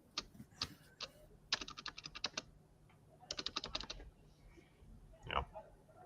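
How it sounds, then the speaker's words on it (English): Bursts of rapid keystrokes on a computer keyboard, fast clicking runs separated by short pauses, fairly close and quiet in a still room. "You're just like typing away."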